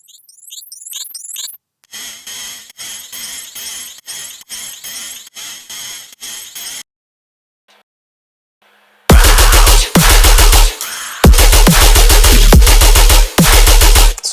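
Harsh, heavily distorted noise layer for tearout dubstep, run through overdrive and a ring modulator, chopped into loud rhythmic bursts with gaps of near silence between sections.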